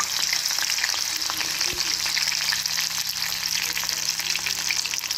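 Curry leaves sizzle in hot oil, a steady dense crackle and hiss that stays loud and close throughout, with faint stirring in the pan and no talk.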